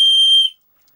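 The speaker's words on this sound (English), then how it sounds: "it's probably the loudest whistle I've got" A very loud plastic survival whistle blown once, a piercing steady tone lasting about half a second, close to the microphone and alone, then cut off to silence.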